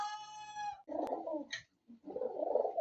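Pigeons coo nearby in a new pigeon loft in soft, throaty bursts, with a brief higher tonal call at the start.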